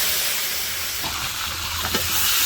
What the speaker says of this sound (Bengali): আলু কলাগুলো দিয়ে দেবে তেলের উপরে দিয়ে ভেজে নেবে